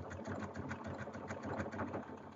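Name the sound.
sewing machine stitching a denim cushion cover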